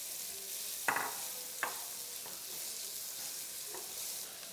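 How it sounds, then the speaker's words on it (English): Chopped onion and garlic sautéing in a pan, a steady faint sizzle throughout with two sharper stirring clicks, close but quiet. "I got half an onion and 4 cloves of garlic that I've chopped up already. Gonna get a nice little saute on these for about 2 minutes."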